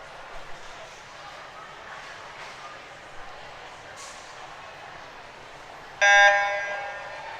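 At a girls' high school swim meet, a loud electronic starting horn blasts once near the end. Before it, an announcer talks over the echoing murmur of the pool hall.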